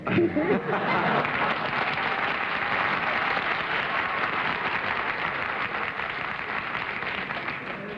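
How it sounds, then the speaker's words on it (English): Studio audience applause on the What's My Line television panel show in 1961, a steady, dense wash of clapping filling the room, with a few chuckles and faint voices mixed in. "I think I was about to get applause."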